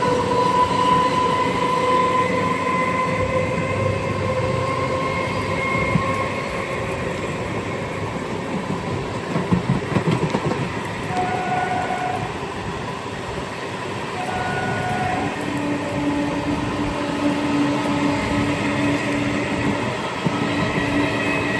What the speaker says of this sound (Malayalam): കൊൽക്കത്തയിലെ ലോക്കൽ ട്രെയിൻ